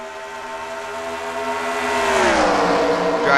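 A pack of stock trucks at full throttle at Talladega in a racing video game, a dense, loud drone of engines with layered tones that rise and swell as the field passes close.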